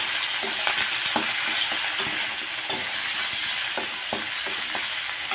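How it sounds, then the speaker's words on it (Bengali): Chopped onion hits hot oil tempered with bay leaf and dried red chilli, sizzling steadily while a spatula scrapes and stirs the pan in repeated rhythmic strokes, close and fairly loud with no talking. "পেঁয়াজ কুচিটা দিয়ে একটু নেড়ে নেব"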